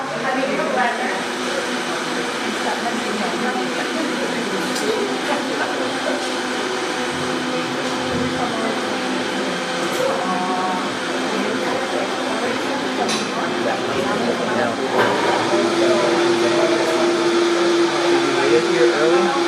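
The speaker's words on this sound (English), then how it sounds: "I love the Vitamix and the cashews and the dates. Go ahead and blend those." A Vitamix blender whirs through cashews and dates in a steady, loud, grinding roar that runs without a break and intensifies slightly toward the end.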